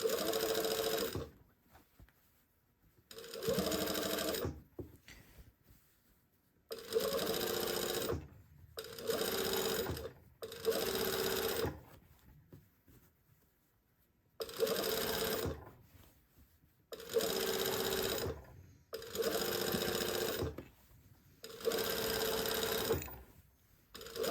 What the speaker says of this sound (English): So I'm sewing the seam allowance to the bias tape all the way around the neckline, really close to that seam.